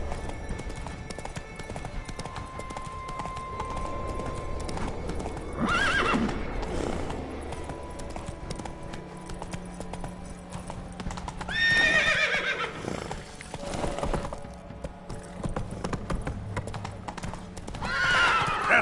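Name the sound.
horse Roach trotting and neighing in video game The Witcher 3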